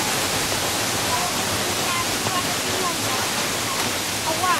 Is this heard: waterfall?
yes